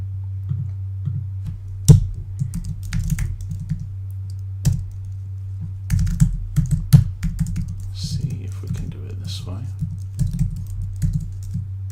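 A computer keyboard being typed on while coding in Android Studio gives irregular quick clicky keystrokes with a few sharper taps, close by, over a steady low electrical hum.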